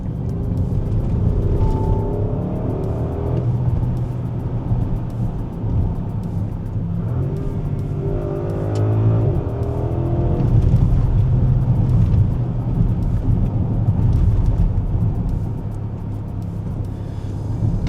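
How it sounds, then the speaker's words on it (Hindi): Audi SQ8 with a V8 engine being driven, heard from inside the cabin: a steady low exhaust and engine rumble with road whir, swelling slightly with throttle midway, muted and continuous throughout. "तो एग्जॉस्ट का साउंड आपको माइक में शायद उतना ज़्यादा ना है"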